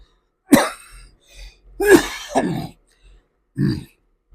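Several harsh coughs come in short bursts with pauses between, close and fairly loud, followed by a lighter throat-clearing sound.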